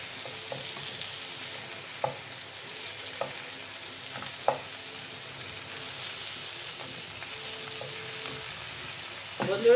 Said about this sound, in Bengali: মাছগুলো আমি ভালোভাবে মিশিয়ে নেব উলট পালট করে